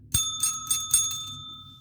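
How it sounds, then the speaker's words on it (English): A small new bell is rung about four times in quick succession. Each bright, close strike leaves a sustained ringing tone that fades away after the last one. "You see my new bell?"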